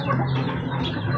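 Rooster clucking among a flock of chicks, a close, continuous low guttural murmur of soft clucks lasting about a second, with no talk over it.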